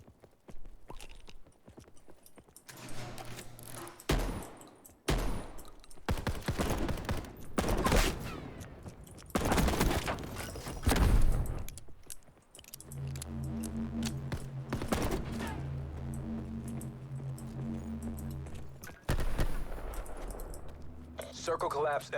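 Bursts of gunfire ring out in Call of Duty Black Ops 4 Blackout, mixed with rhythmic hoofbeat-like clopping, loud and close, while a player talks.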